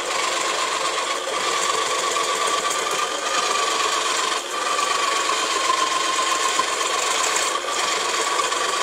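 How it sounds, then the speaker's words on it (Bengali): A vegetable cutter machine fitted with five blades slicing ridge gourd, producing a loud, continuous rasping whir with a steady tonal hum and a few brief dips, close by and without speech. "আর এই সবজি কাটার মেশিন 5টা করে ব্লেড পাবেন"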